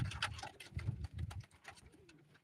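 Soft, low pigeon cooing at a live pigeon auction, several murmuring coos in a row, fairly close, with faint rustling in the background.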